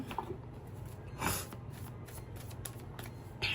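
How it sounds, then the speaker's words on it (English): Soft riffling and flicking of tarot cards being shuffled, with a few sharper bursts of card noise, close up and otherwise quiet. "give me a moment and we'll shuffle"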